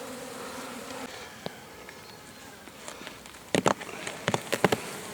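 Honey bees buzz faintly around a hive after wintering, a soft continuous drone with a few sharp knocks and rustles near the end.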